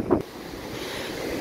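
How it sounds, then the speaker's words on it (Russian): Ocean surf washes up onto a beach close by, a broad steady rush with a brief swell at the start, mixed with wind buffeting the microphone and no talking. "Волна мои тапки чуть не унесла."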